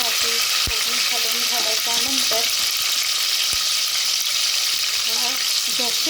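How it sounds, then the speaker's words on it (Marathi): Spice tempering sizzles and crackles loudly in hot oil, with occasional sharp clinks of a spoon stirring the pan. "सर्व फोडणी आता मस्त से घालून घ्यायची आहे"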